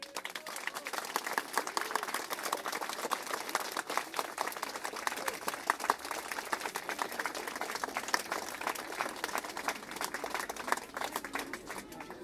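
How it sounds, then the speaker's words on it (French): Sustained applause from an outdoor crowd at a 70th anniversary ceremony of the D-Day landings, dense steady clapping at a moderate distance that continues evenly throughout. "On peut les applaudir."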